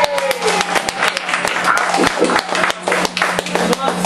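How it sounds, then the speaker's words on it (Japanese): An audience at a live concert in Hiroshima claps in a quick, dense patter that runs throughout, while a performer speaks over it. "拍手いただいて本当にありがとうございます。"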